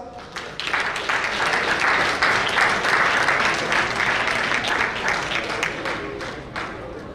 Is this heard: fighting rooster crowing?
no